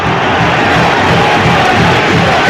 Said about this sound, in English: and all of a sudden the crowd's gone mad